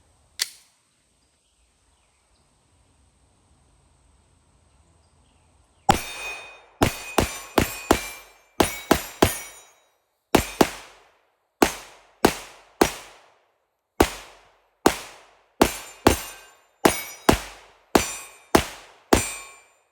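A Glock pistol fires a magazine empty outdoors after a quiet lead-in, with about eighteen sharp, loud reports in a steady, slightly uneven rhythm, each ringing briefly before the next.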